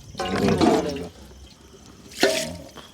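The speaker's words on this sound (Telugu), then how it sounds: "నీళ్ళు చాలా పోయాలి." At a night campsite, water is poured into a cooking pot of rice in two close splashing bursts, the first longer, the second brief, with quiet gaps around them.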